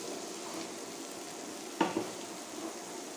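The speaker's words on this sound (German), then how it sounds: "Das lassen wir ganz kurz mit anbraten." Ingredients for white beans with bacon fry in a pan, a steady close sizzle throughout with a brief louder burst of crackling as something is stirred or added partway through.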